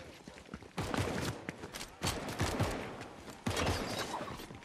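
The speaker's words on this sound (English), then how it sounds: "I hear a bunch of gunshots." Bursts of rapid gunfire crack in quick succession in the video game Fortnite, several volleys with short gaps, fairly loud and close, with no voices.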